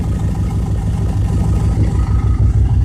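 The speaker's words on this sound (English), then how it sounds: "I can tell at the flex plate there's a problem. You know, maybe you can hear it" A 1999 Dodge Dakota R/T engine runs with a flex plate fault, a loud, close, steady low rumble with a rapid rhythmic knocking pulse throughout and no talking.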